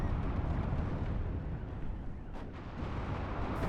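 Cold War battle in the strategy game WARNO, with AMX-10 and AMX-30B vehicles firing, a continuous dense roar of massed artillery and gunfire, thick rumbling and crackling throughout, with no clear voice.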